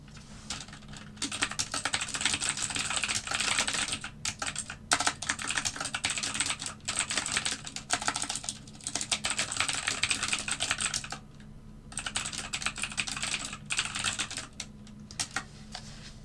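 Steady, rapid typing on a computer keyboard at a trading desk, keys clattering in dense bursts with a few short pauses, close and clear with a low background hum and no talking.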